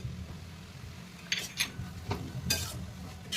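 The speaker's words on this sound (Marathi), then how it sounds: "लाल तिखट घातले की चांगलं परतून घ्यायचे" Greens sautéing with garlic, red chili powder and salt in a pan: a quiet background sizzle broken by several sharp scraping strokes of a spatula, spaced irregularly.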